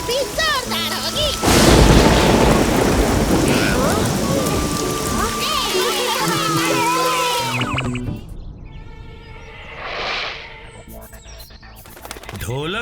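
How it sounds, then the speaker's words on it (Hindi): Heavy rain pours loudly and steadily for several seconds, then stops and gives way to quieter sounds. "लगता है इस बार बारिश भी जोरदार होगी।"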